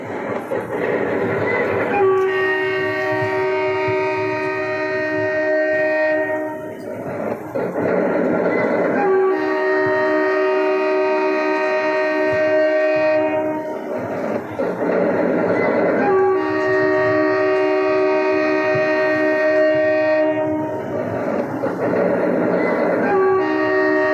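A train runs along steadily with a continuous rumble while its horn blares in long sustained blasts, repeating several times at a near, loud level throughout.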